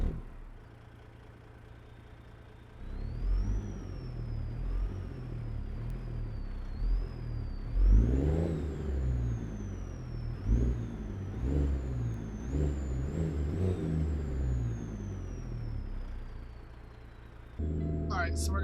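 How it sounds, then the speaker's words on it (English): A heavy truck engine in American Truck Simulator cranks and catches, then rumbles and revs in repeated rising surges over a steady idle, with a whine climbing and falling above it, loud and close. "Why don't we get this baby started up? I'm gonna shut up and let's listen to this engine."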